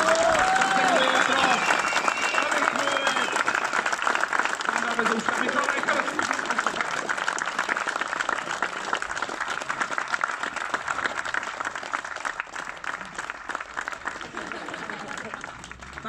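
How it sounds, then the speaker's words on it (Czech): A large outdoor crowd at a Czech Drift Series round in Most gives drift racers a long round of clapping, loud at first and slowly thinning out, with an announcer's voice over the start. "tak poprosím ještě jednou obrovský potlesk pro všechny tři závodníky"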